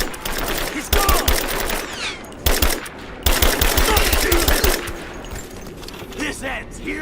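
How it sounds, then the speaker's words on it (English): Gunfire in the video game Rise of the Tomb Raider, with rapid automatic bursts and sharp single shots in a combat firefight, loud and close, while voices shout over the shooting. "Open fire! Give me suppressing fire!"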